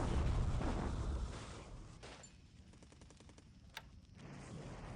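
Bombardment effects from the War in the Pacific strategy game: a dense rumbling barrage of blasts fading into a rapid rattling burst of gunfire, then a sharp single crack.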